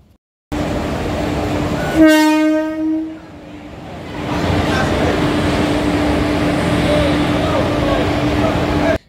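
A train horn blares loudly for about a second at a station platform, then a steady rumble of rail traffic fills the space, with faint voices in the background.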